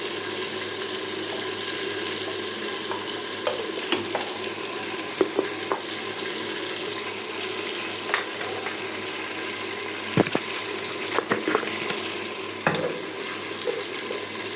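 Cardamom pods sizzling in a hot pan, a steady low crackle with a few sharp clicks and scrapes from stirring scattered throughout.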